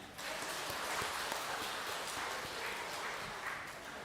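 A church congregation at a Sunday HKBP service in Bandung claps steadily for about four seconds, a dense, even wash of applause that fills the room without pause.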